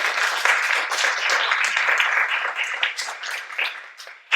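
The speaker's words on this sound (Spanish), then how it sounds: "Un aplauso para todas ellas." Audience applause at an academic event in a university science faculty, a dense, steady patter of many hands clapping at close range for several seconds, with a few sharper claps near the end.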